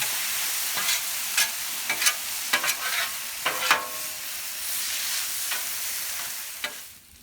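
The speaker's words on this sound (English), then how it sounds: "I've been sauteing and stirring it up" Ramen noodle stir fry sauteing on a Blackstone griddle, heard as a steady close sizzle broken by repeated sharp scrapes and clacks of a spatula stirring across the flat metal surface, with no voices.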